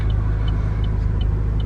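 A car rolls past in everyday traffic, heard from inside a vehicle on a morning drive as a steady, close rumble with faint periodic ticking above it and no talking.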